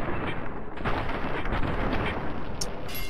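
Gunfire in the video game Fallout: Tale of Two Wastelands, a dense, continuous roar of shots and blasts filling the clip at steady loudness, with no talking over it.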